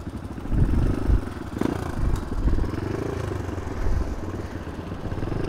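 A Yamaha WR155R dirt motorcycle engine runs steadily close by, a low continuous mechanical rumble with slight surges in level and no talking.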